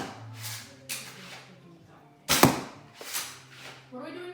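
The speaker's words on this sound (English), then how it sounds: "This is firing the grey Adventure Force Pro darts with the Swift from Worker." An Adventure Force Pro dart blaster, the Swift from Worker, fires grey darts. It gives several sharp pops, with one much louder shot in the middle, and faint voices sit in the background.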